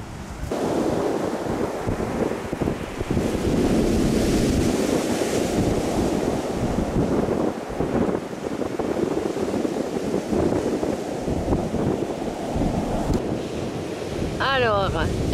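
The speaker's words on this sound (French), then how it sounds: "Aujourd'hui, c'est de la vaguelette." Small waves wash continuously against a shore in Corsica under heavy wind buffeting, a steady rushing surf with no talking.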